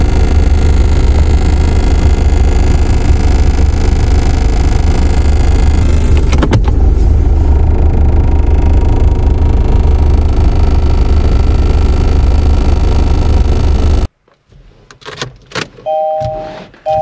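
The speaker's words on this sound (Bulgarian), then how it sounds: "Хайде сега най-важното да покараме тази кола" A car on a test drive, heard from inside the cabin as a loud, steady road and engine rumble. It cuts off abruptly near the end, leaving quiet cabin sounds and a few electronic chimes.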